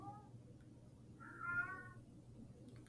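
A cat meows once with a drawn-out, mid-pitched call, heard alone over a low steady hum in an old recording.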